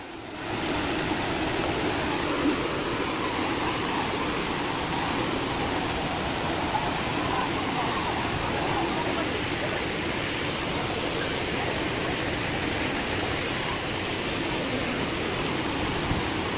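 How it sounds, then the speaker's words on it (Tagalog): The Hinulugang Taktak waterfall in Antipolo, Rizal roars as a constant, even rush of falling water that fills the whole scene, steady and unbroken with no talking. "At ito na ang falls."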